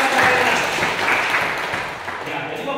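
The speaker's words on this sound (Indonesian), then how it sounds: "tepuk tangan untuk Hesti Magdalena" Classroom applause for a student during a teaching lesson, a short burst of clapping that stays fairly loud throughout and thins slightly toward the end.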